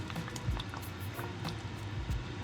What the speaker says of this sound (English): Let that come to a hard boil and keep it going for 20 minutes.